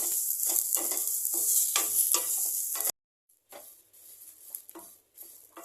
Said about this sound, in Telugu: మునగాకు వేసుకోవాలి. ఒక 2 మినిట్స్ ఫ్రై చేసుకుందాం.